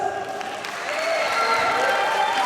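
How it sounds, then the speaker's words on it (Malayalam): Continuous crowd applause for a children's dance group at an Onam stage event, a dense and loud wash of clapping that swells slightly toward the end. "Let's give them a big round of applause."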